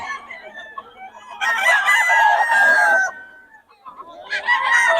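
Sweater-bloodline gamefowl chickens and roosters cluck and call loudly nearby in two bursts separated by a short quieter gap, with some crowing-like calls among them.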